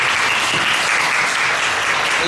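Audience at an education forum lecture applauding the head of a company, a dense, even wash of clapping that holds steady from start to end.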